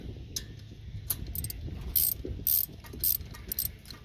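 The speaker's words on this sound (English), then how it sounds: "So all we're doing is tightening it up there, say 10 millimeter." A ratchet clicks in quick bursts while tightening 10 mm starter bolts on a Kohler 7000 Series 747cc engine of a Bad Boy ZT Elite zero-turn mower, close and crisp, with several short ratcheting runs.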